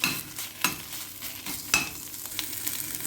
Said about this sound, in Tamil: இப்போது அதே பாத்திரத்தில் இந்த பசலைக்கீரைவும் அதே மாதிரியே ஆஃப் பாயிலாக லேசான தீயில் வதக்கிக்கலாம்.